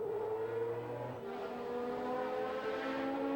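McLaren Formula One race car engine at the 1991 Brazilian Grand Prix, a steady high-pitched engine drone holding a sustained whine with a slowly rising pitch, heard from a distance with no talk.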